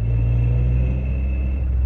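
Tuned 600bhp Toyota GR Yaris driving through a village, its engine giving a steady low rumble with a slight judder, close and continuous with no talk.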